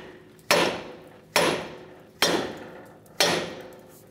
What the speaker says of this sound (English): as we hammer the knuckle here to break the stud free,